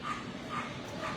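A dog at an animal shelter gives a few short, faint barks and yips in one brief burst, somewhat distant, with no speech over it.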